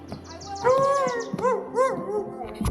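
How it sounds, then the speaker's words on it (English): A dog lets out a few yips and whimpering barks nearby, with short pauses between the sounds and a faint whine at the start. "Is that the one barking so much?"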